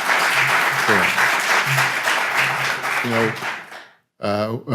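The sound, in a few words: audience round of applause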